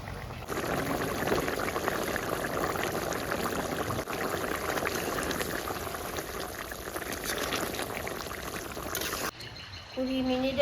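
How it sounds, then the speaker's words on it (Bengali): Chicken with mustard greens cooking over high heat for a shaak curry, a steady loud bubbling and sizzling hiss that runs unbroken for nearly ten seconds before cutting off abruptly. "এখন কিছুক্ষণ মাংসটাকে কড়া তাপে জাল করে নিব"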